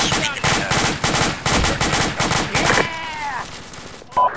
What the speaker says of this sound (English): I couldn't hear over Black Dragon shooting